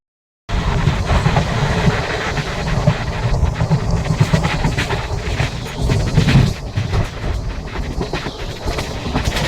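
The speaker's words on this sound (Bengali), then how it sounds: "এই চলে এসছে ট্রেন, এবার উঠে পড়ছি।" A passenger train rolls into a station on the way to Kolkata, a broad continuous rumble and rattle of cars passing close by, steady and loud after a brief silent start.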